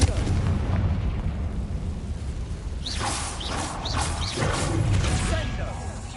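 Confringo fire spells from Hogwarts Legacy burst in a quick series of booming blasts during combat, with a voice shouting over a rumbling background.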